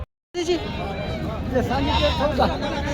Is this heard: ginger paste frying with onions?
no